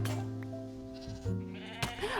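Minecraft goats bleat in the video game, several nasal calls with wavering tones over about two seconds, fairly close, with a brief sharp noise near the end and no speech.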